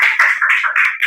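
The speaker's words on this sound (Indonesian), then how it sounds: "tepuk tangan untuk kita semuanya" A class clapping hands together in a brief, rhythmic burst of several claps, close and fairly loud, with a few quick groups of claps in sequence.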